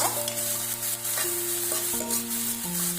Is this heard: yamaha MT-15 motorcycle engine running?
no